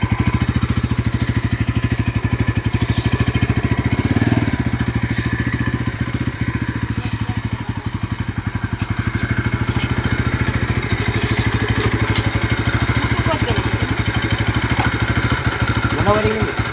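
Bajaj Pulsar NS 200 motorcycle engine running steadily close by, a continuous rhythmic thrum with faint clatter throughout, while voices speak over it.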